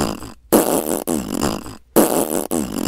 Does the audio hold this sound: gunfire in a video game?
no